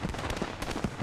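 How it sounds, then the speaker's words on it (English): Renault tank exploding in the WWII shooter Post Scriptum, a burst of repeated crackling blasts and pops, fairly loud and close, with no talk over it. "The flames are bellowing inside the Renault. It's only a matter of time until it goes kaboom."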